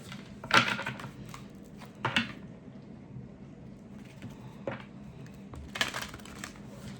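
A deck of tarot cards is shuffled by hand up close, with several quick, soft riffling bursts separated by quieter handling sounds.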